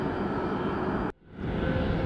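A Boeing 757 airliner's engines roar at Atlanta Hartsfield airport, a loud steady jet rumble that briefly cuts out almost to silence before swelling back.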